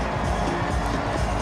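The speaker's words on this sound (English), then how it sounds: "the crowd in raptures once again, greeting that third try from Collins Injera" A rugby sevens crowd at a Las Vegas stadium roars for a try, a steady, dense wall of cheering with no breaks.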